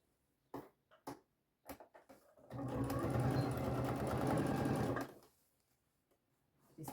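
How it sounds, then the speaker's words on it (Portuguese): Sewing machine stitching a fabric box, a steady close whirring run of about two and a half seconds, preceded by a few sharp handling clicks and taps in an otherwise quiet room. "aqui eu vou costurar ele inteirinho"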